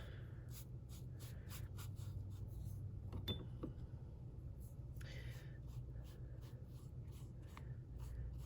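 A pencil moves over paper while someone fills in shading around a traced hand, making soft, continuous scratchy strokes in quick repeated bursts, close up and quiet.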